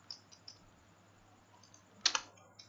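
Keys tapped on a computer keyboard while entering a Java compile command in the Windows command prompt: a few sparse light clicks, then a short, louder burst of rapid keystrokes near the end.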